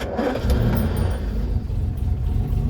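A Land Rover Series 3 109 with a 2.6 engine fires up and settles into a loud, rough idle close by, with no talking over it.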